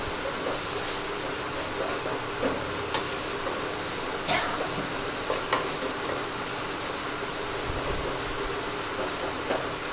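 Bitter gourd curry stirred and mixed in a pan, a dense steady sizzle with occasional soft scraping knocks of the spoon throughout.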